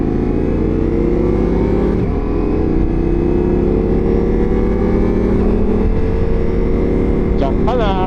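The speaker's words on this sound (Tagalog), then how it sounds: "Nag-deliver lang po ako ng motor. Kaganda rin naman tumunog." A motorcycle engine fitted with a Works USA competition part idles and revs close by, a loud, rough, continuous drone with shifting pitch, and a short sharp rise in revs near the end.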